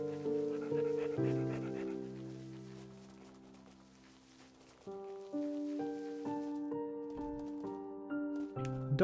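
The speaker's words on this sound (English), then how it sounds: "Dog noises are still putting me off a little bit" A fox in the video game Spirit of the North pants like a dog, soft rhythmic breaths over sustained musical tones of the game's score, close and fairly quiet.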